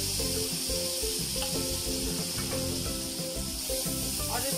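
Spice masala frying in oil with cumin and ajwain for a yogurt arbi curry, a loud continuous close sizzle and hiss that holds steady throughout, with no talk.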